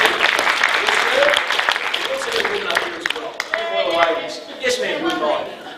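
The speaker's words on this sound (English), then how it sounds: "Give this guy a round of applause." An audience applauds a volunteer at a real estate seminar, with loud clapping that gradually thins while people talk and laugh over it.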